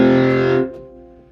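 An overdriven Hammond organ pushed to fuzz-like distortion holds a loud, buzzy chord that cuts off abruptly after about half a second, leaving a faint decaying tail.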